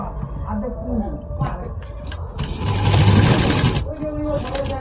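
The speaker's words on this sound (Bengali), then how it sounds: "দড়ির শেষ প্রান্তে ঠিক এইভাবে কাপড়টি দিয়ে আমরা একটা সেলাই দিয়ে নেব" A sewing machine stitches a strip of folded cloth onto the end of a cord for a blouse tie, a rapid mechanical whirring burst that swells in the middle, with a person speaking around it.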